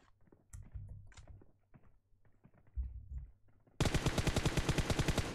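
Rapid automatic gunfire in a competitive shooter match, a sustained burst of evenly spaced loud shots bursting in after quieter scattered game sounds and clicks.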